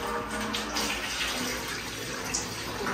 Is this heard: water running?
yes